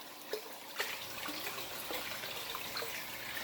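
Water runs from a tap or hose into a fish tank being refilled during cleaning, a steady close splashing stream with a few sharper drips and gurgles, no voices.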